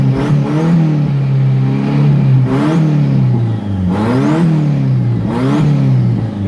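Turbocharged truck engine with a turbo fault revving repeatedly as throttle is blipped, three or four rising and falling surges over a steady loud running drone, close to the microphone and with no talk.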